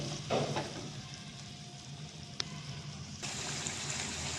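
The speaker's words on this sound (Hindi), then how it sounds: "इसको हम अच्छी तरह से फ्राई करेंगे" Mutton pieces fry steadily in a karahi, a soft continuous sizzle that holds through the whole stretch, with a single sharp clink partway and a slight rise in hiss near the end.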